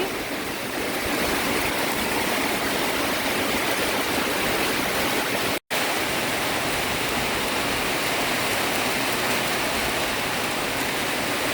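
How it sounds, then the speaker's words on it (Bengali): Heavy rain in Purbachal makes a constant, dense roar that fills the whole stretch, with a brief cut near the middle and no voices. "অনেক বৃষ্টি হচ্ছে এখানে।"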